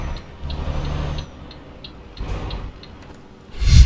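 Hazard lights clicking in Euro Truck Simulator 2 while driving a heavy-load truck, a steady rhythmic ticking over low engine rumble, with a louder thump at the end.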